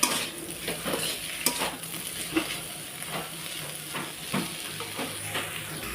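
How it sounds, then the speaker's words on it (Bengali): Cabbage being stir-fried in a pan, a steady close sizzle broken by repeated scraping and clinking of a spatula against the metal, with no voices. "তো বাঁধাকপিটা আমার পুরো একদম রেডি হয়ে গেছে ভাজাটা এখন নামিয়ে নেবো"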